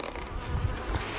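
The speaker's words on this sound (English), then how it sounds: "there's a few of the bees coming out to warn me" Honeybees buzzing close by around beehives in a grassy bee yard, a steady insect drone rising and falling over about a second.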